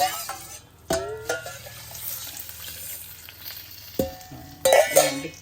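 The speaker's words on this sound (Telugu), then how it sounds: "మన తాలింపు గిన్నెలోనే ఇన్ని వాటర్ కలుపుకొని వేసేస్తున్నాను" Water is poured from a hot tempering pan into cabbage and raw mango dal, producing sharp bursts of sizzling and bubbling with a few splashy clatters, close and fairly loud against quieter simmering between.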